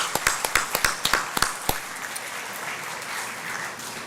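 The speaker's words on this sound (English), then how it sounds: "give a good round of applause to your parents" An audience at a university welcoming ceremony for the Governor of Mizoram applauds for the parents: a few sharp, close, separate claps come first, then the clapping merges into a loud, even wash of applause that continues to the end.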